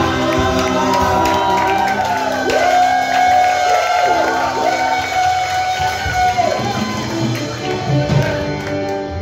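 A church congregation at a Sunday service shouts hallelujah and cheers together, a loud, sustained crowd roar with whoops and yells rising and falling throughout.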